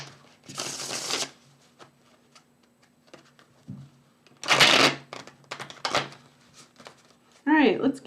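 Tarot cards being shuffled close by in a few quick bursts of papery riffling separated by quiet gaps, with a short voice heard near the end.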